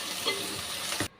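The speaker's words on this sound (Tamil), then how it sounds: "தக்காளி கொஞ்சம் வதக்கினா போதும்." Tomatoes sautéing in a pan for chicken gravy, a close, steady sizzle with a brief stirring scrape before it stops abruptly.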